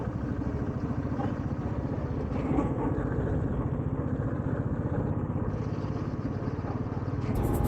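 A motorcycle travels at speed on the road, its engine giving a steady, close, throbbing drone with rushing wind noise that holds level throughout.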